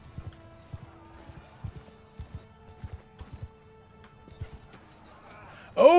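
Horses galloping across a battlefield in Mount & Blade Bannerlord, a steady run of muffled hoofbeats that are quiet and somewhat distant, followed by a louder burst at the very end.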